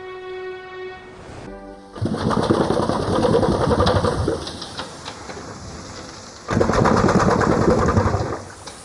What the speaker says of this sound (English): This remarkable contraption is an old steam engine.